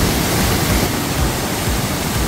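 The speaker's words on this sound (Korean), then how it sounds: "거대한 바위 사이로 물이 떨어집니다" A waterfall in Korea drops between large rocks, giving a loud, steady, close roar of rushing water with no breaks and no voices.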